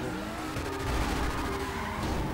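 A car drifts in GTA Online, tires squealing continuously as the engine revs loudly under the skid.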